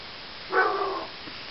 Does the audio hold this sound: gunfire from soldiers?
no